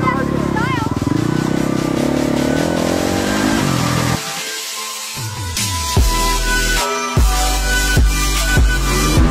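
A motorcycle engine revs loudly with rising and falling pitch, then rasps through several throttle blips in quick succession, with voices and shouting over it.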